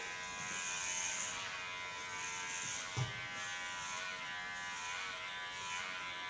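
An electric clipper fitted with a clipper blade cuts a woman's ultra-fine short hair, giving a steady close-up buzz with faint brief bumps throughout and no talking.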